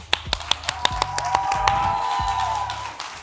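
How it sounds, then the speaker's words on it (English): A quick run of crisp hand claps, sharp and close, gives way after about a second and a half to a sustained tonal music bed. "Let's clap for that right quick."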